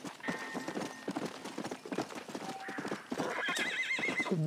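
A horse in Red Dead Redemption clip-clops along with rapid hoofbeats, then lets out a loud, wavering neigh near the end, close and clear over light game ambience.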